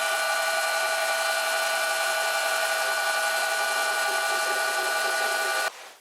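Metal lathe taking a cut with the top slide adjusted, a steady high-pitched whine with strong tonal bands holding evenly, then cutting off abruptly near the end, close and loud.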